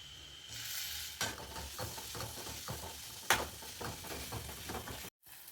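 Soya roast with curry leaves sizzling in a pan, a utensil scraping and knocking in repeated stirring strokes over steady frying hiss, close and clear, cutting off abruptly near the end.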